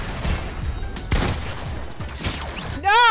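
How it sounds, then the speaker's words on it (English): Sharp gunshot cracks go off in Fortnite, a few spread over a few seconds with rumble between them, and a warbling electronic game effect rises right at the end. "I'm getting sniped at from sources unknown"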